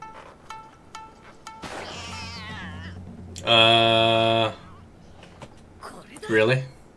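Anime cat meowing while playing with a balloon ball, a few drawn-out cries including one loud sustained meow near the middle and a shorter yowl at the end, amid faint soundtrack tones and chatter.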